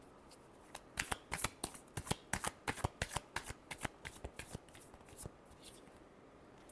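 Tarot cards are shuffled by hand nearby, a quiet run of quick, rhythmic papery flicks and riffles that fade toward the end, with no speech.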